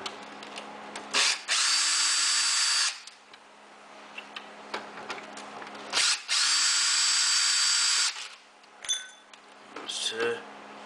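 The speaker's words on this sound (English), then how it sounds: "I'm going to use a cordless." A cordless drill backs out Phillips screws in two loud whirring bursts of about two seconds each, separated by quiet gaps with small clicks and some talking, followed by shorter whirs near the end.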